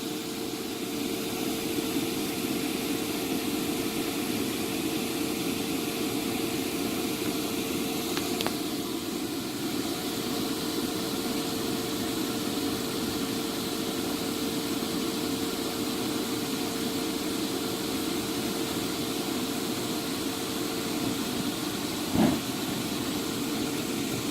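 Electric blower inflating a 16 ft inflatable holiday projection screen, a steady continuous whoosh and hum that holds at an even level throughout, with one or two faint clicks and no talking.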